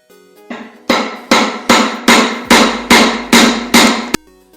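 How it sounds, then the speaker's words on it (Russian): Eight heavy hammer blows on a washing machine drum pulley, knocking the drum out, ring in an even, steady rhythm, each a loud metallic clang with a short ringing decay, close by. "Берем просто молоточек."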